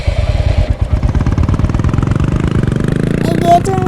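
A Royal Enfield motorcycle engine runs close by as the bike rolls out through a showroom gate, a loud, rapid thumping pulse that holds steady throughout.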